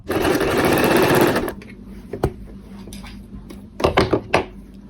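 A sewing machine stitches the side pocket of a pair of men's trousers, running in a fast, steady whir for about a second and a half before stopping, followed by a few sharp mechanical clicks and knocks.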